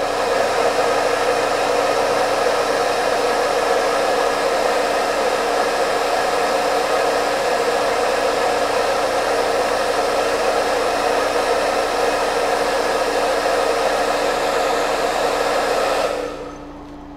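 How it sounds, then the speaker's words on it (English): Hair dryer running on its lowest heat and lowest fan setting, used to dry primer on plastic miniatures: a steady, close whooshing blow held unbroken for about sixteen seconds, then switched off abruptly, with no talking. "The hairdryer is on the medium, so the lowest heat setting, and then only going on to the lowest of the fan settings."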